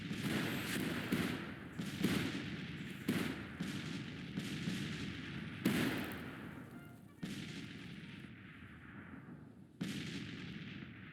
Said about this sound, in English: And our artillery do their work.